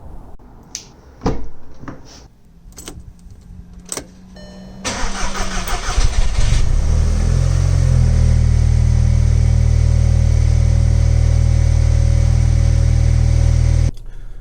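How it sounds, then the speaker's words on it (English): A car engine starts with a loud crank after a few clicks and door-like knocks, then settles into a steady, close rumble as the car drives, continuous and loud until it cuts off near the end. "let's go for a drive."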